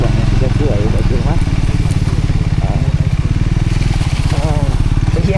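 A motorcycle rides along a gravel road on a mountain route, its engine chugging loud and steady up close, with a rapid pulsing rumble and scattered crackle and clatter from the loose surface throughout.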